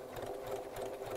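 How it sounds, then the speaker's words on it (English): A few quick stitches from a sewing machine set to a narrow stitch width and short length on fabric, a brief, close, steady rattling hum with no voices. "just sew a few stitches to see if that works"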